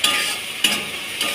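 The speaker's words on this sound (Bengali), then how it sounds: "মশলাটা একটু কষছি" Spice masala sizzles loudly with browned onions in oil in a pan, a close and steady frying hiss broken by a few stirring scrapes.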